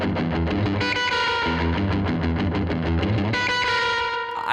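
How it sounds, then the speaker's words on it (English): Surf-style electric guitar riff from a punk song, played with heavy distortion, dense and loud with rapid picked notes over sustained low tones, continuous throughout without talk. "I think that sounds almost like surf guitar with a heap load of distortion."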